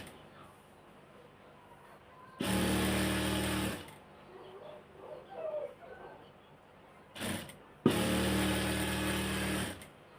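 Sewing machine stitching the side seam of a round dress in two loud, steady bursts of rapid running, with quieter rustling and handling of cloth between them.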